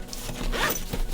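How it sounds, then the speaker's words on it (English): Zipper pulled closed on a Nintendo Switch messenger bag, one quick close zipping rasp lasting about a second, heard alone. "And if we fold it up and zip it up,"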